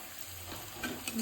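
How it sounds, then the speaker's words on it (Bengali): Tomato and onion fry in a pan with chili powder, sizzling up close while a utensil stirs and scrapes through the mixture. "টমেটো আর পেঁয়াজটা ভালো করে ভাজা হয়ে গেছে, এবার দিয়ে দেবো পরিমাণ মতন লঙ্কার গুঁড়ো"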